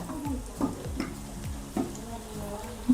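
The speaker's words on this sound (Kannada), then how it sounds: "ಶಾಲೋ ಫ್ರೈ ಮಾಡ್ಕೊಳ್ಳಿ ಚೆನ್ನಾಗಿ" Bhaji shallow frying in oil, with a low, soft sizzle and intermittent light clicks and scrapes of a utensil in the pan, close but quiet.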